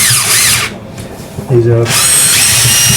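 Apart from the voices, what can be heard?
power drill turning plumbing drain rods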